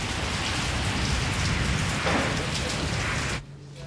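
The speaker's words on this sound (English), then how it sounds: "After 15 hours, it began to rain." Steady heavy rain pours down during a 1992 jungle wait in Bolivia, a dense continuous hiss with low rumble throughout, cutting off abruptly near the end to a quieter tail.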